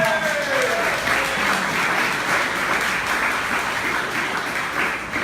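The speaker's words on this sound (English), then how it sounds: "Let's give them all a round of applause." A room full of people applauds donors, sustained, even clapping that stays loud and continuous before easing slightly at the very end, with no speech over it.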